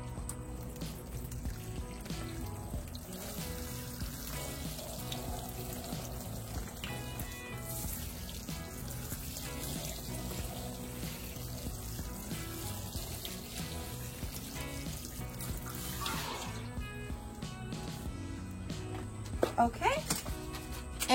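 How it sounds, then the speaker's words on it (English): Water is poured steadily over a tray of freshly sown Flat Dutch cabbage seedlings in soil, a soft continuous trickle and splash heard close, with a few louder knocks near the end. "Now I'm just going to water them in."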